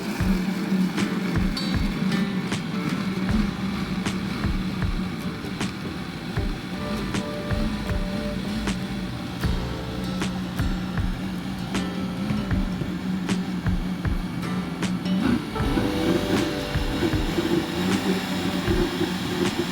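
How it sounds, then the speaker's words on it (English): A blender runs on low with hot water poured in while making keto coffee, a steady motor hum under scattered clicks and rattles that continue throughout at moderate level, with no talking. "I'm starting my blender on low and pouring in the hot water."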